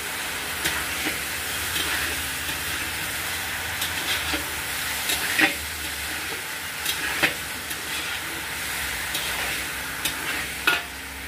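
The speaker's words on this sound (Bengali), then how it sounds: "নুনটা দিয়ে আমি ভালো করে নেড়ে নেব" Vegetables frying with salt in a pan, stirred by hand with a steady sizzle and scattered clinks and scrapes of the utensil against the pan every second or so, close up, no talk.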